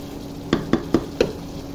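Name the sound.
stir-frying chickpeas and meat together (kosha)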